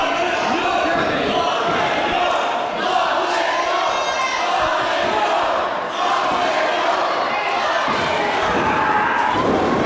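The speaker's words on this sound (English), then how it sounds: "Crowd starts to rally in support of the challenger." Wrestling event crowd rallying behind the challenger, sustained loud crowd chanting and yelling with occasional thuds, filling the whole span.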